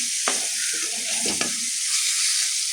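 Ground spices such as turmeric, chilli and coriander powder frying in oil in a pan for goat booti fry, a constant bright sizzle with a few stirring clatters and scrapes, close and steady with no speech.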